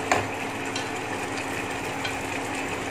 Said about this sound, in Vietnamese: Bây giờ mình sẽ bỏ bánh vào nha mọi người.